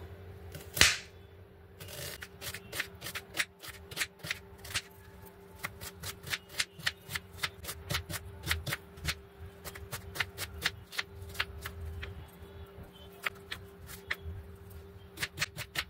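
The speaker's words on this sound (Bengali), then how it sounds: "ফিশ কাটলেটের জন্য আমি এখানে পেঁয়াজ, রসুন, আদা, কাঁচা লঙ্কা সবগুলোকে সুন্দর করে কেটে নেব।" A knife chops onion, garlic, ginger and green chillies on a board for fish cutlets, a long series of quick, crisp taps in an uneven rhythm, close and fairly loud against a quiet kitchen.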